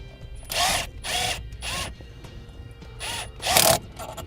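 Five short bursts of ratcheting and mechanical turning come from an Allen key and socket tightening the brake pedal clamp bolt on a 2013 Jeep, each lasting about a third of a second with quiet gaps between, close by.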